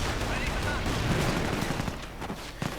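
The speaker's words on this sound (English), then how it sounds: "Grenades getting lobbed." Grenades exploding amid battlefield gunfire in a WWII strategy video game, British against German forces, a dense continuous din of blasts and shots with a commentator talking over it.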